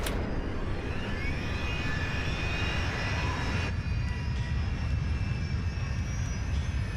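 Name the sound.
Rolls-Royce jet engine restarting, low rumble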